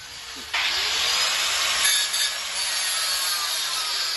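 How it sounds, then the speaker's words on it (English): Steady sawing into a carboned-up intake on a BMW M57 diesel engine for a GU Nissan Patrol conversion, a continuous bright rasping that starts abruptly after half a second and runs on evenly and close. "Just needs to be cut back to where these bolts are that hold it down."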